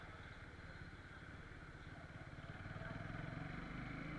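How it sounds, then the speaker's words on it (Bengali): A motorbike rolls along slowly through a quiet neighbourhood, its engine a steady close, low putter that swells slightly toward the end, with no talk over it. "বাবারই নিয়ে বাইক রাইড করতেছি তাই খুব স্লো"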